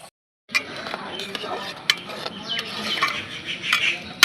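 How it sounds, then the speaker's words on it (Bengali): A spoon stirs bhog khichuri, cooked as an offering for Lord Jagannath, in a pot over a medium flame, giving a steady run of close scraping and clattering against the metal with occasional sharper knocks. "এই সময় শুধু নাড়া দিতে হবে নাহলে উঠলে পড়ে যাবে আর জালটা মিডিয়ামে দিয়ে নাড়াচাড়া করতে লাগবে"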